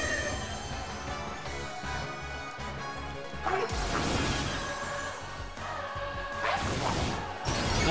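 Background music from the video game Pokémon Violet plays continuously and fairly loud, a dense layered track with heavy rhythmic low end and bright sustained tones, swelling with crash-like accents around the middle and near the end.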